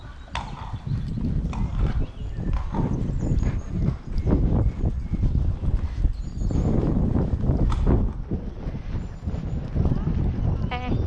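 Pony hooves beat steadily in a dressage lesson arena, a loud rhythmic clip-clop with some wind noise, while a person talks over the riding.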